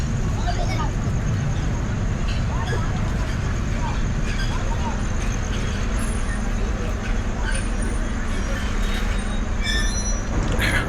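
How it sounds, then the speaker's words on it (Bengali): Steady rumble of a train pulling into Joydebpur station at night, with rattling carriages and occasional high wheel squeals, voices murmuring throughout. "এখানে ট্রেন থেমে গেছে"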